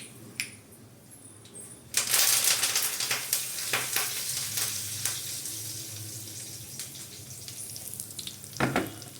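Curry leaves dropped into hot oil for a tempering for Andhra pappu charu burst into a loud sizzle that gradually settles into a softer crackle, with a few light clinks of utensils.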